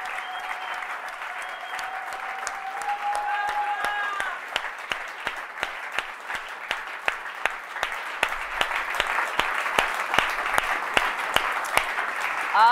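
A church conference congregation applauds, a dense sustained clapping from a large crowd that settles into a rhythmic, evenly timed beat toward the end, with a voice heard faintly at the start.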